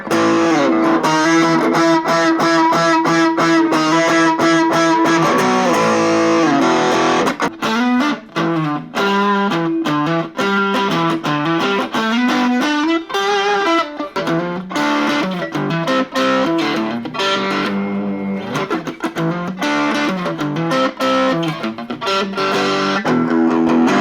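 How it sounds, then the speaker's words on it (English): A Mosen 39-inch electric guitar with HSS pickups and a single-coil tremolo, played through an amp with distortion: sustained chords followed by a busy run of crunchy, overdriven notes, loud and steady throughout with no talking. "The distortion on here is really nice on the amp too."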